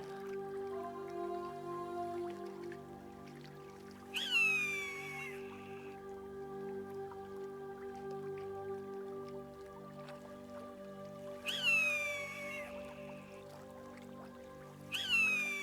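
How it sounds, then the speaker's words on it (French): Birds of prey call high in the sky over a countryside meditation soundscape, three sharp descending cries at spaced intervals, standing out above a steady droning musical bed. "Tout là-haut dans le ciel, vous pouvez entendre le son caractéristique des rapaces qui volent librement."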